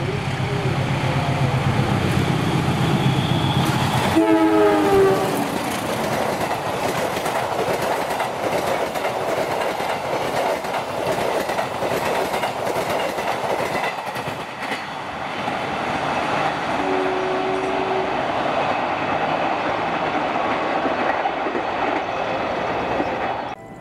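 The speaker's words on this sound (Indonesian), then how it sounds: "Selanjutnya kereta api Menoreh 226F." Menoreh 226F passenger train passes close by for the whole stretch, a steady loud roar of wheels on rail with rhythmic clickety-clack joints and brief squeals, the noise easing slightly near the end.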